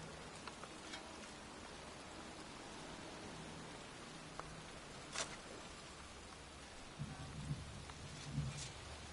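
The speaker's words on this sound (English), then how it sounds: "It's cold. It's raining." Steady rain pours over a cemetery in the Heavy Rain video game, a soft continuous hiss with a few faint thuds and rumbles, no voices.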